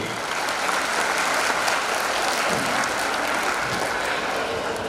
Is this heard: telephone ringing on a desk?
no